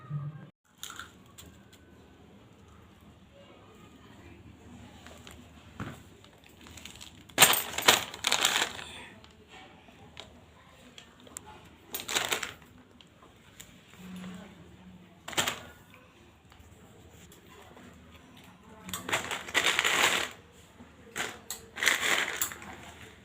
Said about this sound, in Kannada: ಹಾಗಲಕಾಯಿ ಕಡಿತೈತೆ ನೋಡ್ರಿ ನೋಡ್ರಿ ನೋಡ್ರಿ ಮೊಲ ತಿಂತೈತಿಲ್ರಿ